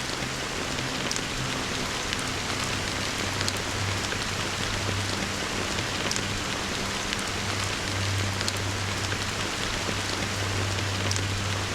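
Dense, steady rainfall hisses evenly throughout a scene in the video game Honkai: Star Rail, with scattered sharper drop impacts and a low continuous hum beneath, no speech.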